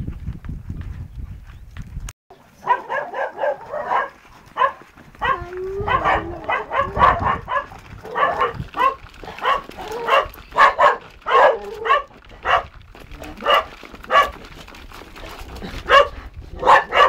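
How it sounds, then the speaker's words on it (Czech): Dogs bark in repeated, uneven bursts at close range outdoors, near a hen yard, with short gaps between volleys over a steady low background. "Pejskové štěkají"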